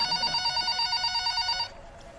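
Telephone ringing with a repeated electronic trill during a call at a motorbike ride-hailing service office, loud and close, pulsing steadily for about a second and a half before cutting off into quiet room tone.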